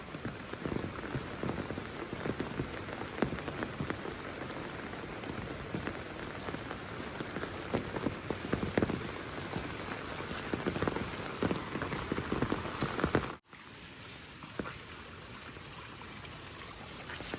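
Steady, heavy rain pours and patters on surfaces without pause, then abruptly drops to a softer, even shower for the last few seconds.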